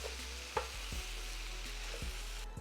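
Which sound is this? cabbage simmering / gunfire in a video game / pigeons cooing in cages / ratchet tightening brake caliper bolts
cabbage simmering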